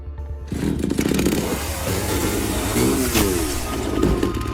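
A chainsaw roars loudly and steadily up close, its engine pitch wavering as it revs, with no pauses throughout.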